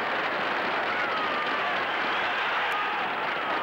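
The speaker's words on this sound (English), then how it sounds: "The crowd is pleased with Britain's clever play." A crowd at a 1962 Australia versus Great Britain rugby league test match applauds and cheers a try, a dense, steady wash of clapping and crowd noise with no pause.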